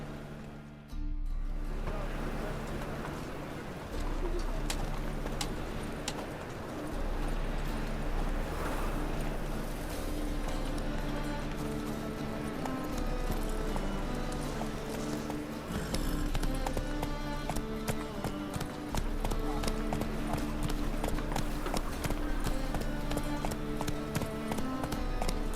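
Roach the horse galloping in The Witcher 3: a steady, driving clip-clop of hooves at full speed, loud and continuous over a bed of game music and ambience.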